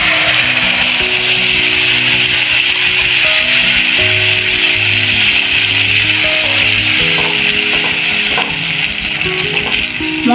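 A spice mix fries in hot oil, a steady loud sizzle under rhythmic scraping and rubbing as it is stirred, with a low tonal hum running through.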